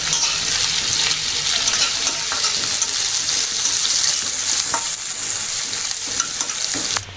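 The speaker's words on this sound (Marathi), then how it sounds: "तो छान आता मऊ होईपर्यंत मी परतणार आहे" A sliced onion sautéing in hot oil until soft: a bright, steady sizzle close by, with occasional soft stirring scrapes and no talking.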